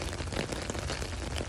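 Rain falling steadily in a municipal community garden in Boucherville: a dense, even hiss of drops at moderate level with no break and no voices.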